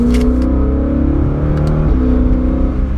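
A BMW M car with a double-clutch transmission pulls hard under acceleration, its engine note climbing steadily and staying loud and close throughout, with a brief dip around a gear change.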